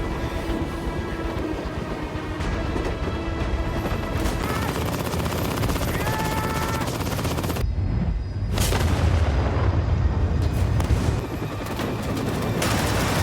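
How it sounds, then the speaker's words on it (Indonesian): Dense, continuous barrage of gunfire and booming blasts, loud throughout, with a brief drop before a heavy explosion surges back in as a helicopter blows up. "Kim yang berada di helikopter belakang menembaki Carter dengan membabi buta hingga membuat helikopter yang dikendari Carter meledak."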